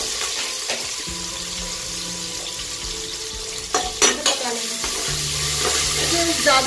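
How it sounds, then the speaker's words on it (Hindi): Onions sizzle steadily while frying in a pan for a pea pulao, with a constant crackle, a few stirring scrapes and clinks midway, and no voices. "ये हमारा प्याज भून चुका है, इसे लाइट पिंक होने तक ही फ्राई करेंगे"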